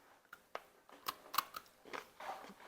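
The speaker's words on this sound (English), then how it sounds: "you should get a good crunch. I love peanut brittle." Someone biting and chewing crunchy homemade peanut brittle, a series of sharp cracks followed by softer crunching, close and fairly quiet, with no talking.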